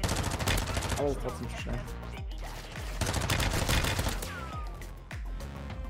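Rapid bursts of automatic gunfire in Warzone 2.0, loud and close, with sharp cracks clustering into volleys and a brief lull, while someone speaks over the shooting.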